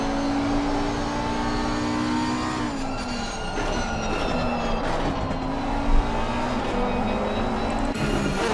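Lamborghini race cars battle in a PC racing simulation on the Indy circuit. Several engines whine and rev continuously at close range, with pitch shifts as they accelerate and change gear, and there is no talk.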